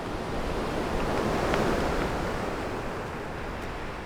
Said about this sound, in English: I just listened to the sea going